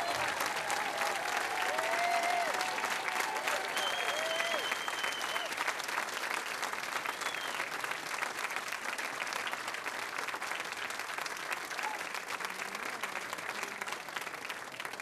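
A crowd at a blues festival gives sustained applause for the blues guitarist Beverly Guitar Watkins, dense clapping that stays loud throughout, with faint voices and cheers mixed in.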